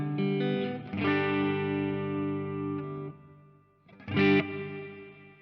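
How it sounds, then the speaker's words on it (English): Electric guitar played through a Plethora X5 effects board on the neck pickup with reverb at medium strength: sustained, ringing chords with a slight grit that swell, hold for about three seconds, fade, then a fresh loud strum near the end. "I'm now going to bring in my reverb, back to the neck pickup and playing with medium strength."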